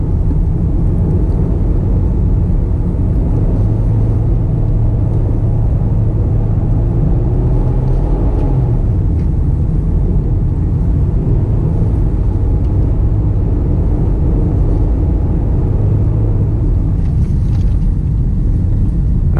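A Mercedes car engine rumbles steadily while driving on a frozen ice track, loud and continuous with faint tonal whine shifts, with no voices over it.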